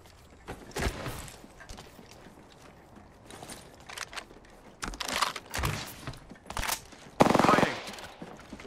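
Gunfire in the video game Apex Legends, played as Bangalore, arrives in short automatic bursts and a few single shots. A louder, closer burst closes the passage, and a player talks between the shots.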